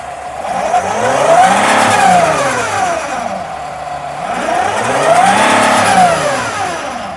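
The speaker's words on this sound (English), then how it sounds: "I'm gonna rev up the engine." A Mercedes Sprinter van's diesel engine with a clogged DPF, revved in a shop: two loud, close rev cycles that rise smoothly in pitch and fall back, with no talk.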